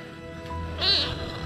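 A cat gives a short meow near the end, close and moderately loud over quiet outdoor background.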